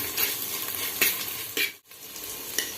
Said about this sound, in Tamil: வெங்காயத்தோடு சேர்த்து வதக்கும்போது சீக்கிரமாக வதங்கிடும் வெங்காயம்